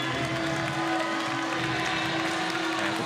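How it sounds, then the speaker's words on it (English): Crowd applause at a FIBA 3x3 basketball World Cup Qualifier final, a steady wash of clapping and cheering held at an even level throughout, with a faint arena tone underneath. "And the crowd still showing love to Singapore."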